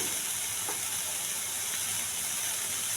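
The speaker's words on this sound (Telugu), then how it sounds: "కొద్దిగా అల్లం వెల్లుల్లి పేస్ట్ అండి, పచ్చివాసన పోయేంత వరకు ఎగర్చాలి." Ginger garlic paste frying with onions and curry leaves in a hot pan, a steady, fairly loud sizzle that stays even and continuous throughout, with no talking.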